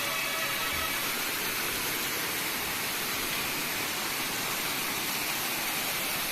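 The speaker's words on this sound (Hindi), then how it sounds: "तो हमें दिखाई दिया बहुत अच्छा झरना, बहुत ही प्यारा झरना था ये।" Mountain waterfall on the way to Gangotri, cold water pouring down from the peaks: a dense, loud, constant broadband roar, close by and unbroken, with no voices over it.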